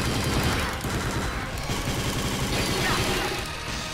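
Rapid shots fired in Mega Man ZX Advent, a dense stream of game gunfire with explosions and music underneath, loud and continuous.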